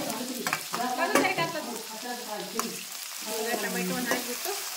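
Small-cut tomatoes fry in hot oil for aloo sagu, a close sizzle under repeated spoon scrapes and clacks against the pan, with a faint voice-like murmur mixed in.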